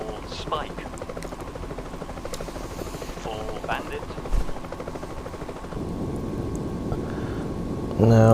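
Cobra attack helicopters fly in the Eurofighter EF2000 combat video game, giving a continuous rotor and engine drone with a voice talking over it and a rougher surge near the end.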